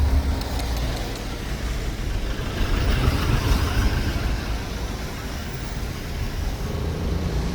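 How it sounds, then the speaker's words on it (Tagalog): Heavy road traffic with cars, buses and trucks idling and creeping in a long jam makes a continuous dense engine rumble close by, with no clear talking. "so mahaba ng traffic."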